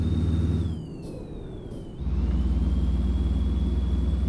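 The engine of an Autocar truck mod in American Truck Simulator drones loudly with a thin high whistle on top. The whistle dips in pitch as the engine eases off briefly, then returns steady as the drone resumes.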